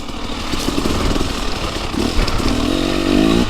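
A motorcycle engine runs loud and close while the rider pulls away and shifts up, with a rough, throbbing exhaust note and rising revs toward the end.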